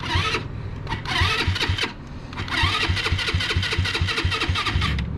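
A GY6 scooter engine cranks and catches, sputtering through several starter attempts before settling into an uneven, rapidly pulsing idle with revs rising and falling, loud and close throughout.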